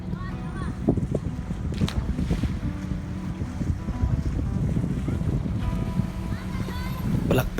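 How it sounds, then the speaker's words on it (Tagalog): Wind buffeting a microphone outdoors in a park beneath a bridge in Mandaue City, Cebu, a steady low rumble with gusts, faint background noise of water or traffic. "Hangin."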